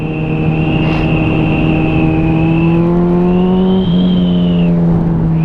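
Suzuki B-King 1340 naked motorcycle engine pulling up through the revs under light throttle, a loud steady drone that climbs in pitch, with a brief gear-change dip near the end and a constant wind rush, no talk.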